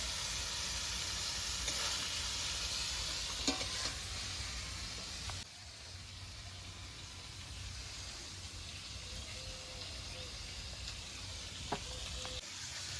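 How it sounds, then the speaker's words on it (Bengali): Meat sizzles and fries in a pan, a steady close hiss that carries through the whole stretch, with occasional faint clicks of stirring on top. "মাংসটা বসানো হয়েছে"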